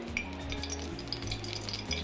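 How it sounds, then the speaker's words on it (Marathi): A spoonful of ghee hits a hot kadai while tempering for a cashew masala curry, giving a steady, close sizzle with faint metallic clinks from the pan and spoon throughout. "हे बघा, कढई गरम झालेली आहे। आता 1 चम्मच मी तूप टाकते आहे"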